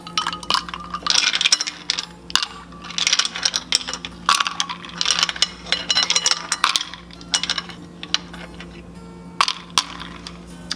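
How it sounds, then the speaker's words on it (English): Ice cubes drop and clatter into a glass while a fizzy festive holiday drink is mixed, a run of loud, sharp clinks and rattles in quick bursts, close and distinct with brief pauses between handfuls. "and add some ice cubes."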